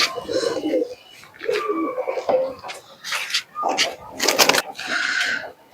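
Pakistani pigeons coo in soft, repeated, throaty bursts close by. People talk over and between the calls.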